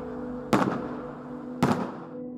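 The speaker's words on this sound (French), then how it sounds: "Pour la durée des Jeux, les feux d'artifice sont les vedettes de la ciel." Fireworks burst over Prince George during the Canada Games, two sharp booming explosions about a second apart, each trailing off in a crackling rumble over a steady background hum.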